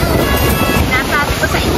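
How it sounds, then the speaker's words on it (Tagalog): Rough, continuous rush of strong sea waves and surf at Milano Marittima Beach mixed with heavy wind buffeting the microphone, loud and close, with a voice faintly underneath. "Lakas ng alon kasi."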